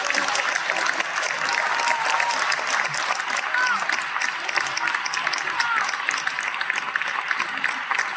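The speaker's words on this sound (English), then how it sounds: "Let's make a round of applause." Steady audience applause at an ESA open day talk, dense clapping sustained for about eight seconds with a faint voice briefly audible beneath it.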